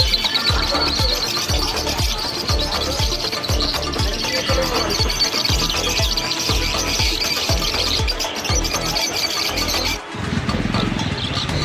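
Sun conure parrots in a bird shop squawk over and over in loud, shrill calls. The racket is dense and nearly constant, and the calls come in a fast, repeating rhythm.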